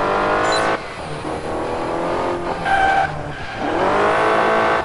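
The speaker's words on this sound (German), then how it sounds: "dich muss ich noch leiser machen, Auto. Du bist zu laut." In the racing game Alarm für Cobra 11, a car engine revs and roars in bursts, with squealing tire skids as it corners. The engine is loud and close, dropping briefly before surging again, with no talking.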